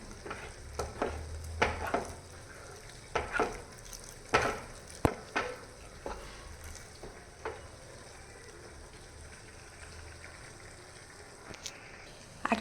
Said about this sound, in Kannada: ಈ ಥರ ತಿರುಗ್ಕೊತಾ ಇರಿ ಮುದ್ದೆ ಆಗೋವರೆಗೂ.